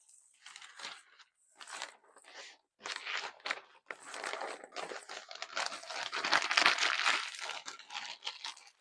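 Wrapping paper being crumpled by hand while packing breakables for shipping, heard as close, crinkly bursts in irregular clumps that grow into a longer, denser crunching stretch.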